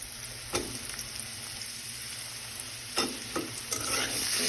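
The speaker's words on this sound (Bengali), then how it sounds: "চিকেনটা একটু নাড়াচাড়া করে কিছুটা ভেজে নেব" Chicken pieces fry with browned onions in a pan, giving a steady close sizzle broken by a few sharp scraping stirs of a spatula, with no talking.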